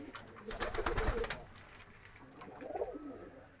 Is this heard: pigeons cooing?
yes